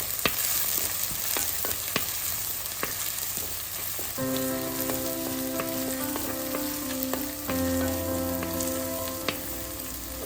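Finely chopped shallots frying in a pan after mustard seeds, a steady crackling sizzle with scattered sharp pops, joined midway by a sustained tonal hum, with no talking.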